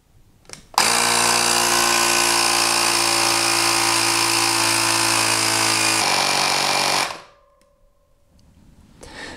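An electric bicycle pump inflates a tire up to 100 PSI, its motor starting abruptly and droning loud and steady for about six seconds before cutting off, leaving a quiet tail.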